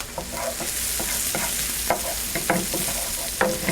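Onions caramelizing in a pan over medium-high heat, a constant sizzle broken by repeated clacking stirs of a utensil, close and loud.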